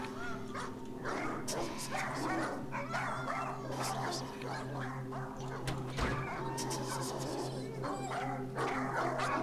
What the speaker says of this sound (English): Hey, there's a dog!